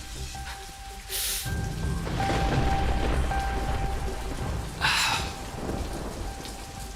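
Steady heavy rainfall hisses throughout, with low thunder rumbling beneath it and two short bursts of louder crackle standing out against the downpour.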